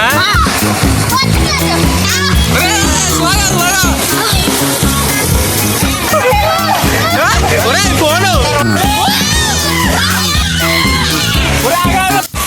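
Water splashes continuously and loudly at a waterfall as children shout and chatter excitedly over it.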